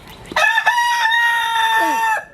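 A rooster crows once, loud and close, a long strained cock-a-doodle-doo with a rough rasping edge, heard alone.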